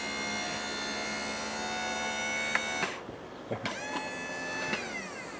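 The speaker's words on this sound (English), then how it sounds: "Listen to the motor" Carefree RV awning motor running: a steady electric motor whine with a fixed high tone, followed by a short stop and several clicks, then a slightly shifted whine as it keeps going.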